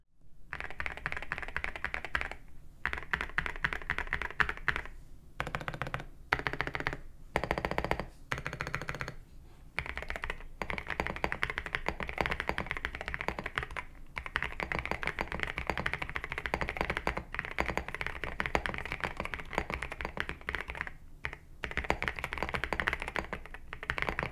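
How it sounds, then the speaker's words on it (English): Continuous rapid clacking of keys on a CIDOO Stellar mechanical keyboard, dense and steady with a few brief pauses, close up and alone. "Now let's do a quick typing test of the Stellar."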